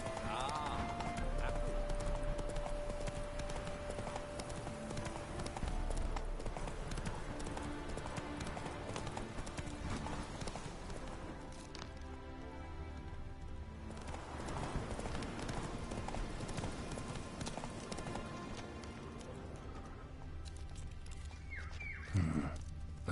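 Roach, a heavily laden horse in The Witcher 3, trots with a steady clip-clop of hooves under ongoing game music and ambience, with a voice talking over the hoofbeats.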